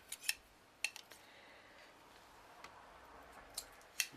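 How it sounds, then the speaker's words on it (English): A few sharp, quiet snips spaced out over a soft background hiss, with a double snip near the end. "just let me snip this bit off"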